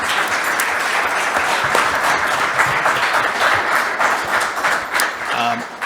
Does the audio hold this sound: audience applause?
yes